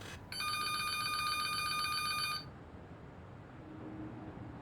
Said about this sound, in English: I'm gonna call the office phone and let you answer it.